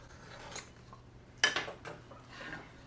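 Knife strokes scoring a workpiece while checking a square in a woodworking shop: a few short, close scraping and clicking strokes, one sharper and louder than the rest, with no talking.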